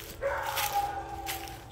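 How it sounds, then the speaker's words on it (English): A dog barks and yips a few times at hikers on an unofficial hiking trail, sharp calls that sound moderately distant outdoors over a steady background hum. "We're being barked at because we're trespassers."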